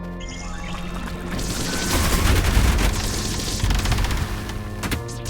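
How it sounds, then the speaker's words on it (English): Shotgun blasts in the fast-paced shooter ULTRAKILL, a dense, loud barrage of overlapping gunfire and crashing impacts layered over a constant game soundtrack, swelling in the middle and carrying on to the end. "Switching from another shotgun to another shotgun is faster than reloading."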